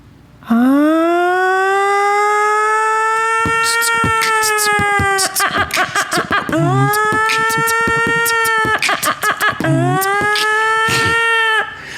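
A person vocally imitates a siren, a loud rising wail that sustains and repeats in three long cycles, with brief choppy breaks between them.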